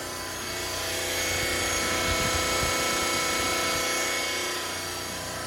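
A Kalamazoo GB-35 hydraulic punch and shear with its hydraulics running and no pressure on the gauge, giving a steady, loud whine and hum that holds evenly throughout with no talk.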